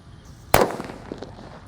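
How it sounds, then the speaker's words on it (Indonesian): A single sharp mercon petir firecracker bang rings out, a loud abrupt crack followed by a short fading echo and faint crackling. "lanjut kita akan menyalakan mercon petir guys"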